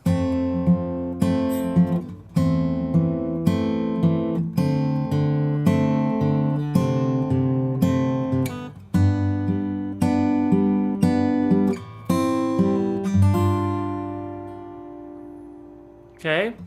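Acoustic guitar strums the chorus of a song, with steady chord changes played close and clear, ending on a ringing chord, without voices.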